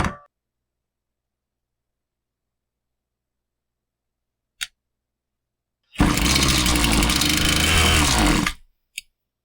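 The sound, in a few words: Husqvarna 525PT5S pole saw engine running and bogging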